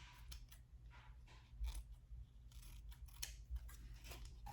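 Scissors snip through a piece of shimmery glitter ribbon from the Dollar Tree, giving several quiet, crisp cuts in an irregular rhythm over a low background hum while making Christmas ornaments.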